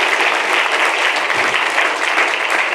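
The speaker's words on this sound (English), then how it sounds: "Let's give a very warm round of applause to our amazing panel this evening." A crowd at a housing policy panel event gives warm applause, a thick, bright, continuous wash of clapping, close and loud, with nobody speaking over it.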